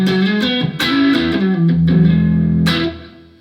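An electric guitar plays through a Friedman amp switched in on a KHE ACS 4x4 FX amp switcher, giving a distorted, overdriven tone with sustained notes and sharp pick attacks, loud and alone.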